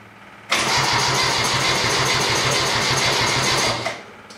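A Cushman Front Line mower cranks and fires, its engine catching abruptly and running in a loud, steady rapid chug for a few seconds before cutting off, with no speech.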